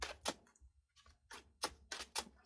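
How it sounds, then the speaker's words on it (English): A gold foil Rider-Waite tarot deck being shuffled by hand: several crisp, papery bursts of cards riffling and slapping together in an uneven rhythm, close and fairly quiet, with short silent gaps between them. "shuffle my gold foil Rider-Waite tarot deck"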